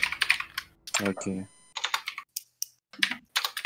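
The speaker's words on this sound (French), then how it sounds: "il est en train de violer son clavier. C'est un clavier mécanique, c'est pour ça." Fast clicking on a mechanical keyboard, loud and close, in short bursts of rapid keystrokes that sit between and under a voice talking during a tabletop role-playing session.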